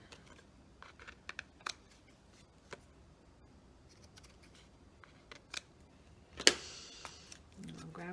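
Small scissors snip the loose thread ends on a handmade journal, a few sharp, quiet clicks spread out with pauses between them, followed by a louder rustle near the end while someone talks softly.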